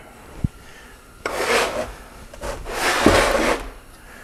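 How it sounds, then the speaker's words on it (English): Metal pin worked out of a 74-year-old Briggs and Stratton engine during camshaft removal, giving a sharp click, then two rough rasping pulls of metal rubbing against metal. "Gotta get that pin out."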